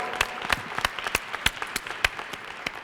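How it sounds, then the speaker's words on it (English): Scattered audience applause at an Albany State University honors convocation, individual claps popping irregularly and moderately close for about three seconds, with no voices over it. "Yep, you may applaud."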